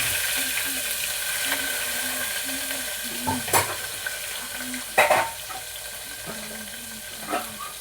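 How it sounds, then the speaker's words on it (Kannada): Cut onions for mushroom pulao tipped into hot oil in a pan and stirred, a steady sizzle with intermittent scraping clatters of a spoon, while a voice talks in the background. "ಮಸಾಲೆ ಈರುಳ್ಳಿ ಕಟ್ ಮಾಡ್ಕೊಂಡಿದ್ದೆ, ಅದೇ ಹಾಕ್ತಾ ಇದ್ದೀನಿ."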